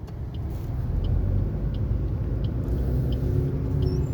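A car pulls forward in a driving lesson after the clutch is released, producing a steady low rumble of engine and road noise at close range with no talk.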